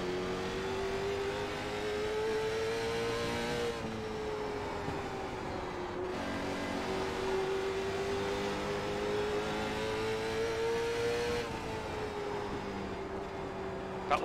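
A late model race car circles a short oval track, its engine holding a steady drone that swells and dips as it works through each lap, loud and close throughout.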